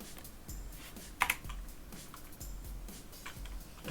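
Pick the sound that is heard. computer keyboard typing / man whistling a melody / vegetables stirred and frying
computer keyboard typing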